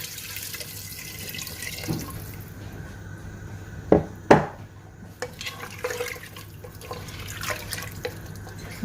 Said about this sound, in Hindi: तकरीबन 2 गिलास इसमें पानी डाल देंगे हम लोग